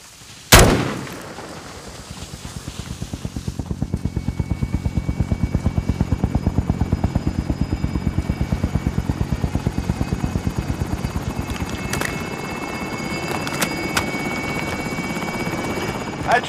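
Helicopter in the video game Call of Duty Warzone, a cash extraction chopper heard after a sharp bang, its rotor thumping steadily and loudly for the rest of the clip, with a couple of gunshot-like cracks.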